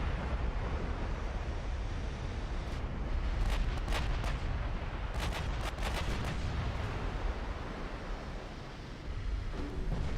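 Heavy naval gunfire in the Ultimate Admiral Dreadnoughts game, with battleship salvos booming over a constant roar of sea and battle noise and sharper cracks clustering in the middle.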